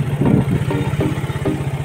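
A small fishing boat's motor runs nearby with a steady, low, rapid chugging rhythm, fairly loud and unbroken.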